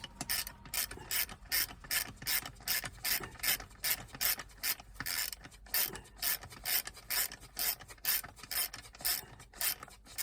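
A ratchet wrench undoes a nut on a Volvo Penta oil cooler from an AD, TAMD or KAD series marine engine, clicking in a fast, even run of close, sharp ratcheting strokes with no speech.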